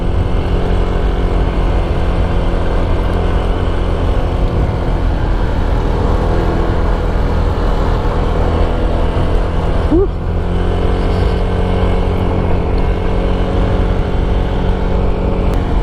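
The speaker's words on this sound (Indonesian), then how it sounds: "bener-bener rasanya itu enteng sekali loh nanjak pakai motor ini" A Honda Vario 160 scooter climbing uphill, its engine giving a steady continuous hum over road and wind noise, close and loud throughout.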